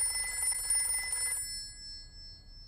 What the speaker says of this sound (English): Let's phone Dr. Hamster the vet.